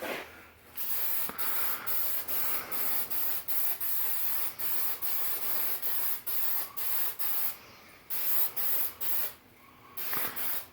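A spray can hisses in short, rhythmic bursts while a metal cage is being painted, each burst a second or less with brief pauses between, close and steady.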